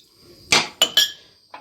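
Several sharp clinks and clatters of dishes being set down in a sink, four quick knocks spaced unevenly.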